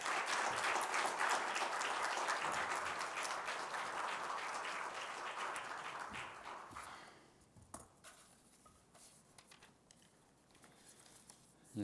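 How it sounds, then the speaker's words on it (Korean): A church congregation claps to welcome a speaker at a Bible revival meeting, dense sustained applause filling the room for several seconds before thinning to scattered claps and quiet shuffling. "우리 성기사님 나오실 때 큰 박수로 환영하겠습니다"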